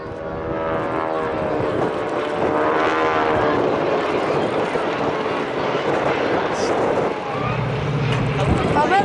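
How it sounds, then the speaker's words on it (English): A Fairey Swordfish biplane and a Stinson Reliant fly past at the Blackpool Air Show 2023, their propeller engines making a loud, continuous droning hum that holds steady and swells slightly. "2 aeroplanes, the biplane is the Swordfish, the other one is a Stinson Reliant,"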